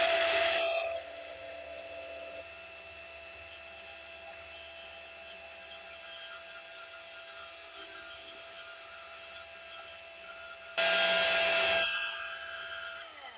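Two loud bursts of cutting on the flange of a steam locomotive steam pipe, one at the start and a longer one near the end, with a steady machine hum running between them.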